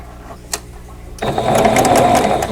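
A sewing machine chain-piecing quilt squares with a quarter-inch seam starts up after about a second of quiet room noise, then runs as a steady, fast, close mechanical whir to the end.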